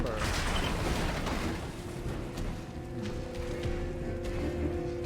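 A door mechanism opens in Resident Evil 2 Remake with a steady grinding, creaking mechanical run and a held metallic hum, set against a busy, constant game-noise bed.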